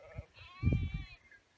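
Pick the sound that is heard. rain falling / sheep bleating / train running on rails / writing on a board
sheep bleating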